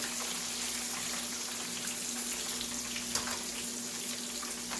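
A constant crackling sizzle of chicken with kaffir lime leaves frying in hot oil, with a low steady hum underneath and no talking.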